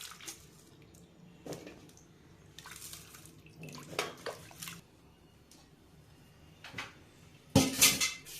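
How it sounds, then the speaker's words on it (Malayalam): Peeled tapioca is washed in water in a pot, with intermittent splashes, sloshing and metal pot clinks, fairly close and at a moderate level, ending in a louder clatter. "നല്ല വെള്ളത്തിൽ കഴുകണം അല്ലേ?"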